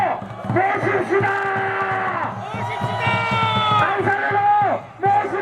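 Crowd voices chanting and shouting at a political rally outside Sangnoksu Station in Ansan, with loud sustained tonal shouts rising and falling over a busy outdoor din.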